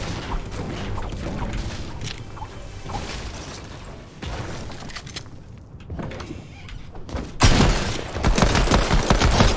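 Rapid bursts of gunfire from a new gold pistol in a video game crack through busy in-game clatter and movement, with a louder, denser volley near the end.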